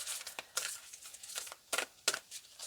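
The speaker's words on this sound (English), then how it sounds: "So I'm just going to shuffle here," A deck of oracle cards shuffled by hand, giving irregular papery riffles and crisp slapping bursts close by, with no talking over them.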